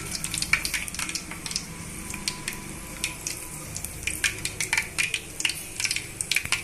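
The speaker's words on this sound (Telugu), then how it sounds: "ఇప్పుడు ఈ ఆయిల్లోనే మధ్యలో కట్ చేసి పెట్టుకున్న పచ్చిమిర్చిని వేస్తున్నానండి" Slit green chillies dropped into hot oil, giving a close, steady crackling sizzle with sharp spattering pops scattered throughout, no voices.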